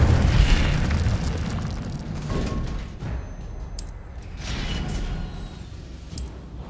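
The Incendio fire spell bursts in Hogwarts Legacy, a loud booming whoosh of flame that opens strong and tails into a rumbling, crackling wash of fire and combat noise, with brief bright sparkling flourishes and no talking.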